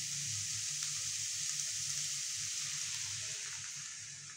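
Steady sizzling and bubbling from chicken stock poured into vegetables cooking in a pan, loud and close, fading slightly toward the end.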